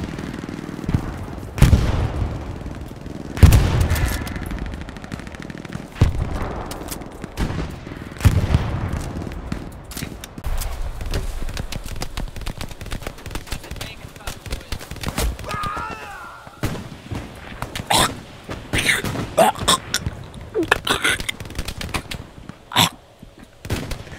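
Gunfire in the World War II shooter game Hell Let Loose, with repeated shots and booms scattered across a busy battlefield mix at varying distances.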